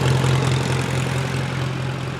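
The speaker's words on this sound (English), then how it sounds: "got the tractor all fired up here" A tractor engine idles steadily on a farm ahead of dyno testing, a loud, constant low rumble with a strong hum and no speech.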